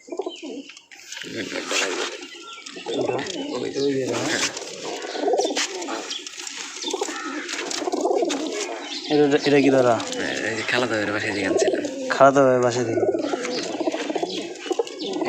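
A caught pigeon coos softly near people who talk over it throughout, the low calls mostly buried under the conversation.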